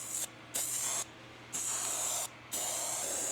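Paint sprayer set to vertical fan mode hisses in three bursts separated by brief silences while painting an LMTV military truck, the spray close and steady during each pass.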